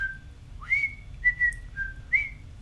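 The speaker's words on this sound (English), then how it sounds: "That show made me want to learn how to whistle." A person whistles a few short, clear notes with brief pauses between them, moderately close and otherwise alone over a faint low background hum.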